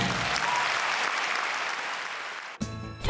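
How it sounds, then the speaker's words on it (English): Steady applause and clapping from a theatre audience for the Mamma Mia cast, dense and sustained, then cut off abruptly near the end by a short burst of other sound. "Put your hands together for the cast of Mamma Mia."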